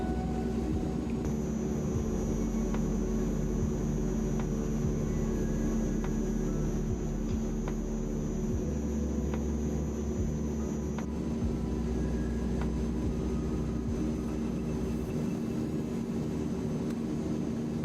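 Twin turboprop engines of a C-160 Transall climbing in Microsoft Flight Simulator 2020, a steady loud drone with a constant high whine throughout, no voices.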